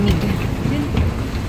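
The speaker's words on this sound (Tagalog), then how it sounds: "Ang lakas ng hangin!" Strong cold wind buffets the microphone beside an airport bus, a steady low roar with gusty rumble throughout, while voices talk over it.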